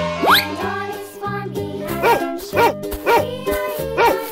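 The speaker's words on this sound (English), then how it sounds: "Dog." A dog barks in a quick series of about five close, bright, evenly spaced barks, preceded by a rising whistle-like squeak.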